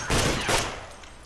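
A burst of rapid gunfire in the video game Escape from Tarkov, loud and close, firing for about half a second and then trailing off into a fading echo.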